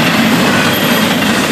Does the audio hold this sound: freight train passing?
yes